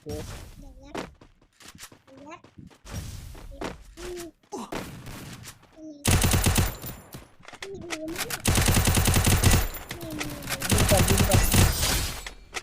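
Rapid automatic gunfire from a shooter video game, bursts of shots over a speaking voice, growing louder and denser in the second half with sustained machine-gun volleys.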